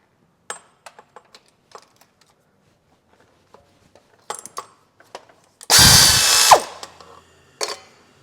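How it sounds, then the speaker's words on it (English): A bracket bolt is removed with a hand tool during engine removal on a Chevrolet Cruze 1.4: scattered metallic clicks and clinks, then a loud buzzing power-tool burst of about a second, followed by a final rattle, up close with no speech. "I'm also going to grab this bolt just at the top here."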